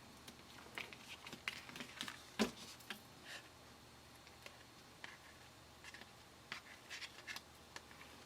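Scissors trim a bow on a handmade card, giving scattered small snips and papery scratches at close range with faint ticks and rustles in between, quiet overall and without speech.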